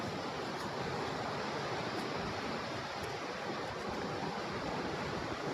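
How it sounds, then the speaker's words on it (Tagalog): Strong floodwater rushes past a spot where a road once ran, a steady, loud, broadband roar with no break, heard alone without voices. "Lakas ng tubig."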